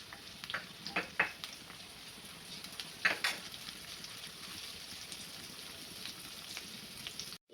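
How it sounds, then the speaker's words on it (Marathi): Onion fries in a pan of oil and ghee, giving a soft, steady sizzle with a few sharper crackles and pops early on, fairly quiet and close, with no talking. "इथे कांदा घालायचा आहे कांदा थोडासा परतून घ्यायचा आहे"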